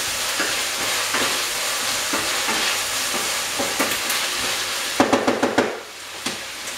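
Food seasoned with black pepper is stirred in a hot oiled pan, a continuous loud sizzle with scraping strokes and a quick burst of rapid clatters near the end.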